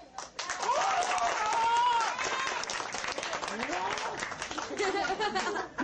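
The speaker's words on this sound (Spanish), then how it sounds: "Vamos a dar un fuerte aplauso a Freddy." A crowd claps and cheers for Freddy at a live comedy show, steady applause for a few seconds with chatter and laughter mixed in and voices talking over it.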